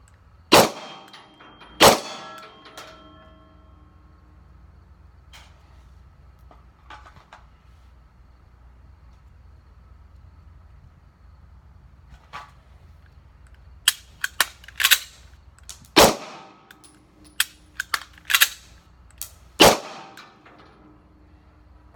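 Sig P250 pistol shots during ball and dummy drills on a range, with sharp, loud reports fired singly and spread out, including a pair early and a quicker cluster later, separated by quiet gaps.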